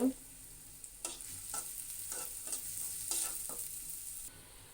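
Chopped onions frying in oil in a pan until browned, a quiet continuous sizzle with a few soft stirring scrapes spaced through it, close and low in level.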